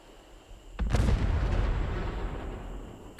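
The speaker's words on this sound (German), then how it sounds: "Krasse Explosion." Loud in-game blast as a burning truck explodes in Fallout 76, a sudden broadband boom near 0.8 s followed by a long rumbling roar that slowly fades over several seconds.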